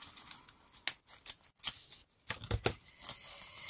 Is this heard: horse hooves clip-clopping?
no